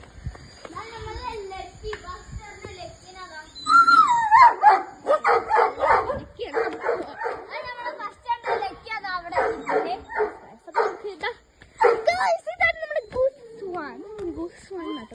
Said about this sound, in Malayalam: പിന്നെ ഇവിടെ ഗൈസ് ഒരു ഡോഗ് നിന്റെ പേര് എനിക്കറിയത്തില്ല, ഇത് പാവമാണ് കേട്ടോ